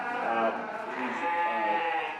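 Sheep bleat at a 4-H county sheep show, a drawn-out wavering cry that blends with nearby voices and the murmur of the show ring.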